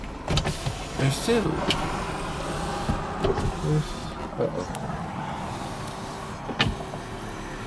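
Electric power windows of a Cadillac Cimarron sedan with a 2.8L V6 whir up and down in a few short runs inside the car, with someone speaking briefly between them.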